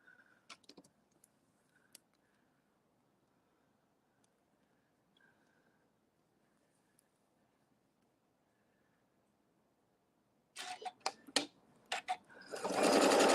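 A sewing machine stitching fabric for a table runner starts up after near silence, with a few clicks and then a loud, steady mechanical whir near the end.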